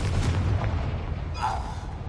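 A Bombarda explosion spell going off in the Hogwarts Legacy video game, a short booming blast with a low rumble and a brighter burst near the end.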